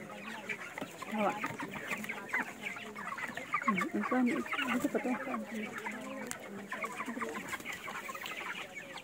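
A flock of broiler chickens clucks and murmurs continuously at moderate distance on a farm, a busy overlapping chatter of soft calls with no clear pauses.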